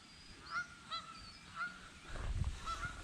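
Geese honking by a lake on a rainy camping trip, several separate calls at moderate distance over quiet ambient noise, followed by a low rumble near the end.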